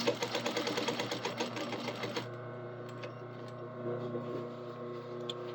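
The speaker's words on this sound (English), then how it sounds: "We're just going to stitch this together" A sewing machine topstitches the overlapped fabric of a kilt in a rapid, steady chatter of stitches for about two seconds, then stops, leaving faint clicks and handling noises close by.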